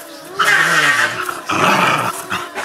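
A dog growls up close in two rough, throaty bursts, loud and short.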